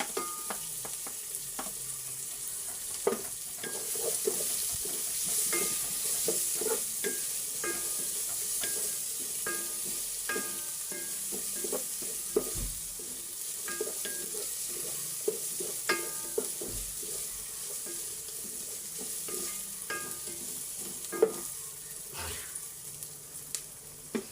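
Chopped garlic sizzling and frying in a pan for chicken tinola, a steady crackling hiss with scattered sharp pops and occasional stirring scrapes, close and continuous without talk.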